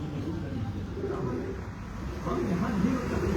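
A galwa pigeon coos in low, repeated rolling calls at close range, with faint background noise around the bird and no clear speech over it.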